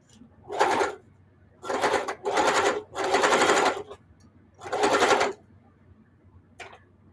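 A sewing machine stitches across a thick hot pad made from heavy upcycled denim, running in five short bursts of close, loud whirring separated by pauses, with a brief final tap.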